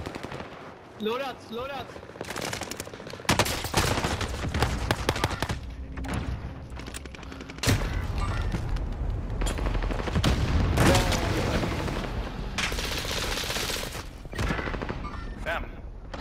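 Gunfire in a video game with dense bursts of automatic fire and single shots, loud and close, coming in clusters across the whole stretch while players talk over it.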